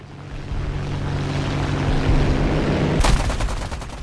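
Machine guns of a P-38E fighter firing during a dogfight in a combat flight video game: a sudden loud burst of rapid gunfire breaks in near the end over a steady engine drone.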